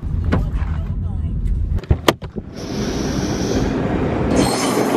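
A train pulls into a London station with a broadband rumble of wheels and carriage noise, brief clanks and squeal, and a high brake hiss rising toward the end, heard close and loud in an echoing platform setting.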